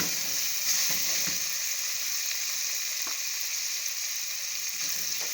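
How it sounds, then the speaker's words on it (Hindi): Tinda gourds fry with minced meat in a pan with softened tomatoes, a steady close sizzle running the whole time with a few faint stirring knocks and no talk. "टिंडों को कीमे के साथ हल्का सा फ्राई करना है"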